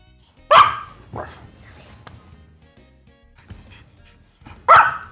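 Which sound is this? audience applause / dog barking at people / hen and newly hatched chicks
dog barking at people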